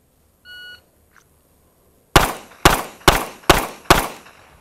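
A shot timer's short electronic beep sounds, followed after a pause by five loud, sharp 9mm pistol shots in an even rhythm of about two per second, close and ringing.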